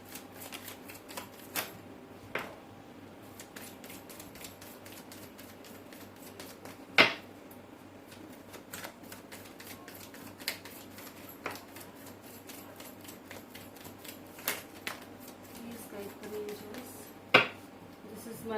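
Tarot cards being shuffled by hand, with soft riffling and scattered sharp snaps and taps over a quiet background of low room noise, some louder clicks standing out near the middle and end.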